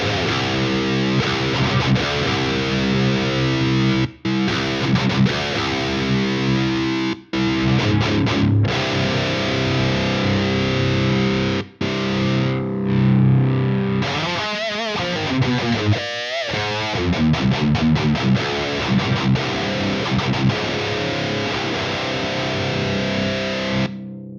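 Heavily distorted electric guitar through an Ammo Sound Lab Diezel VH4 amp plugin, chugging chords and sustained notes, loud and thick, with a few abrupt stops and some wavering, swirling tones.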